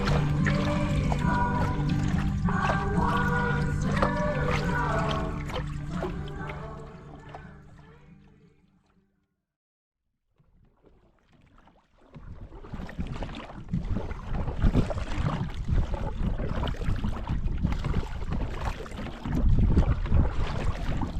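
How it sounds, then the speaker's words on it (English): Canoe being paddled across Lake Pepin, a large open lake, with water sloshing and strokes dipping in close and fairly loud. Wind buffets the microphone, and the sound drops out briefly midway before returning. "So now we've got to paddle really hard across this giant lake, Lake Pepin"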